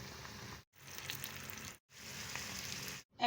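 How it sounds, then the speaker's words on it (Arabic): Salted, rinsed eggplant slices fry in hot oil, producing a dense, even sizzle and crackle heard close by, broken by two brief silent gaps. "بقلي البتنجان اهو بعد ما حطيته طبعا في الملح وشطفته حلو قوي من الملح اللي كان فيه"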